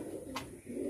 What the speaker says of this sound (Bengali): আজকে দেখাবো 3টে পায়রা